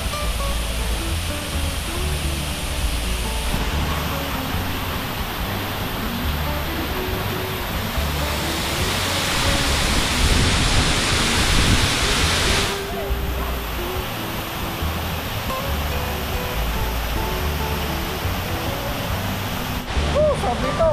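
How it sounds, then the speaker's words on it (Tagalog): Balagbag Falls in Quezon roars as a steady broadband rush of falling water on a rainy day, loud and close throughout, with a few people's voices faintly in the background. "Sabi ito, Balagbag Falls."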